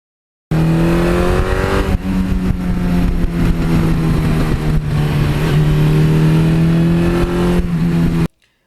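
A 1982 Suzuki GS1100E old-school superbike engine runs steadily at close range, a loud, even four-cylinder drone with slight pitch swells, holding for about eight seconds before cutting off abruptly, with no voices.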